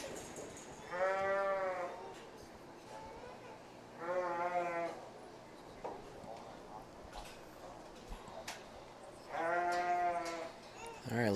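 Sheep bleating in the showmanship ring at the 2023 Las Animas County Fair, three loud drawn-out bleats spaced a few seconds apart over a murmuring crowd and faint background talk.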